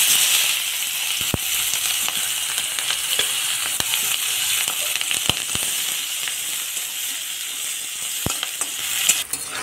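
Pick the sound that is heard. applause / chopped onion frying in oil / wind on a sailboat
chopped onion frying in oil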